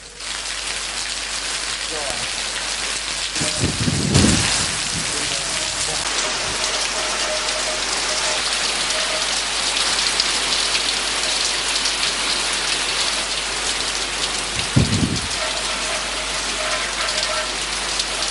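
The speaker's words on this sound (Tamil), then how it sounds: "அத்துடன் அப்பகுதிகளில் மழையுடன் கடும் காற்றும் வீசியுள்ளது" Steady heavy rain drums on surfaces throughout, driven by strong wind during an evening downpour in eastern Sri Lanka after months of drought, with a couple of brief louder gusts or thumps.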